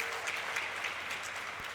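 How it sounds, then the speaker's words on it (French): At a televised competition, a studio audience applauds after a project presentation with sustained, steady clapping that holds at an even level throughout. "On les applaudit très très fort"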